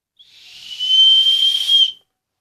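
A shrill toy whistle blown once for about two seconds, a steady high tone with breathy hiss, swelling then cutting off abruptly.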